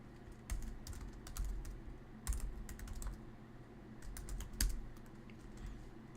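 Steady typing on a computer keyboard while coding a bowling scorer program, rapid clicks in bursts with a few louder key strikes, close and alone against low room hum.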